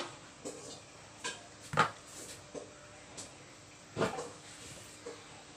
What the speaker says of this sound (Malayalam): ഒരു പാൻ എടുപ്പത്തേക്കാം.